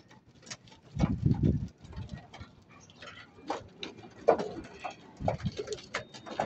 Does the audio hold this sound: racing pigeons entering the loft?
yes